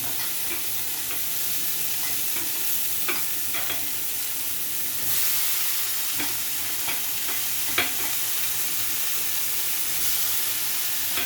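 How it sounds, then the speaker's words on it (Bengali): Soy chunks fry with tomatoes in a pan for a soybean and cauliflower curry, giving a steady close sizzle and hiss broken by scattered scrapes and clacks of stirring, with no talking. "সয়াবিনগুলো এর সাথে কষানো হোক, তাহলে খেতে একটু ভালো হবে আর সয়াবিনটা মজবে ভালো"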